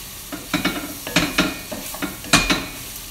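A pan sizzles as soy sauce and chili flakes are stirred in, with repeated scraping strokes of a utensil against the metal and a steady frying hiss underneath, close and fairly loud.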